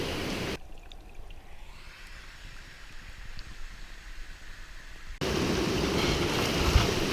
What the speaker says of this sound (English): Really cool streams in this area